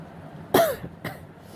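A person coughs twice: one sharp, hacking cough, then a shorter, weaker one half a second later. The person has a cold after drinking cold water; there is no talking and only a quiet room around.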